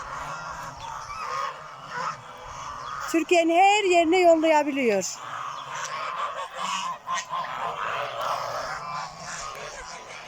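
Geese honk loudly in a rapid, harmonic burst for about two seconds on a goose farm in Şarkışla, Turkey, with a person talking before and after amid background farmyard noise.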